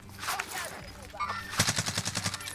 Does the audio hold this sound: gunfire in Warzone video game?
yes